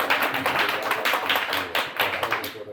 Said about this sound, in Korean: 조명희 국회의원님께 다시 한 번 더 박수를 부탁드리겠습니다